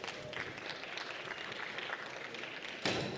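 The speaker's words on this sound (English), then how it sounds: "Can we give Kyle another round of applause?" Applause from a conference audience after a presentation, a steady wash of clapping at moderate distance that swells louder near the end.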